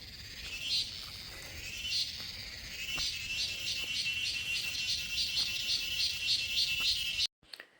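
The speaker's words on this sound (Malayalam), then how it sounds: "ഇവിടെ ഇതാ ഒരു ചീവീട് ഇരുന്ന് വലിയ ശബ്ദത്തിൽ കരയുന്നുണ്ട്." An insect chirps loudly and rapidly in a rural village, its high pulsing trill repeating in quick bursts close by over faint background noise, then cutting off abruptly at the end.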